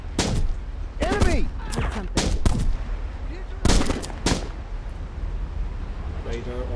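Gunfire in Jagged Alliance: Back in Action: a burst of sharp shots near the start, a run of several more rapid cracks, then another cluster, with a voice talking in between.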